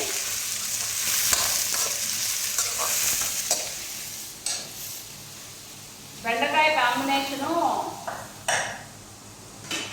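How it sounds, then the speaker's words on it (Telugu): Thinly sliced onions frying in a pan ahead of okra and raw prawns, sizzling with spatula stirring and pan clatter, while someone talks over it in the later part. "ఎర్రగడ్డ సన్నగా తరుపుకున్న ఎర్రగడ్డలు బాగా దూరగా వేసుకోవాలి ముందుకి"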